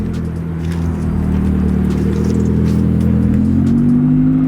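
A supercar engine idles loudly and rises into a revving drone at a motorcycle dealership, a close continuous roar that climbs in pitch toward the end, with no speech over it.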